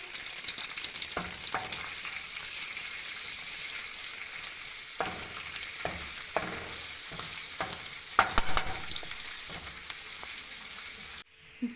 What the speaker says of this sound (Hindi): इसमें ये बारीक चॉप किया हुआ लहसुन शामिल करेंगे और इसे लाइट ब्राउन करेंगे